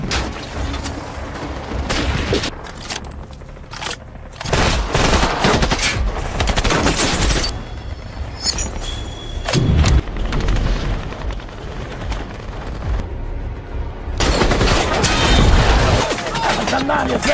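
Gunfire in a film battle scene about a sniper avenging his father: repeated machine-gun bursts and single shots with heavy booms, loud and near, interspersed with shouted voices and music.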